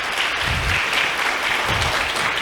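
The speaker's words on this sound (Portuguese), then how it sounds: "eu queria que todo mundo desse uma salva de palmas gigantesca para a Lídia," An audience at a citrus-growers' event applauds a colleague, giving dense, sustained clapping at an even level throughout, with no voices on top.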